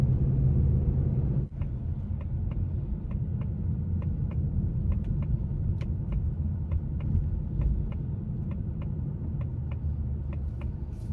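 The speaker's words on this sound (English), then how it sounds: "It's got that low rumble, man, from that V8." A low, steady V8 engine rumble from a 2024 Mustang GT RTR idles at moderate distance, with faint ticking clicks over the drone.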